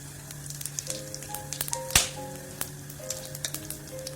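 Whole cumin seeds hitting hot oil in a pan while chicken keema is being cooked, giving a steady soft sizzle with scattered crackles and one sharper pop near the middle, with no one talking.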